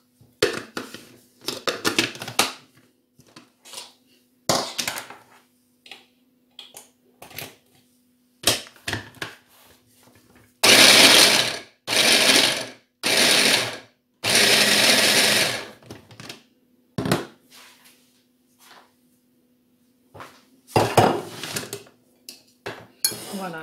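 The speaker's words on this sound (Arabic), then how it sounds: "غادي نطحن بشويه بشويه" An electric grinder grinds food for a birthday party cake in several short, loud bursts separated by pauses, with clattering of bowls and utensils between runs.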